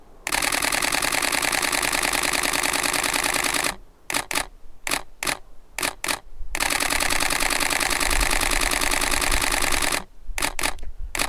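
A camera shutter fires in rapid burst mode, a loud, close machine-like rattle running several seconds, breaking into short separate bursts, then resuming long before a final few clicks.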